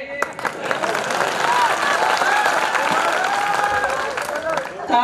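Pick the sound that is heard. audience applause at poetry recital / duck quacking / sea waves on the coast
audience applause at poetry recital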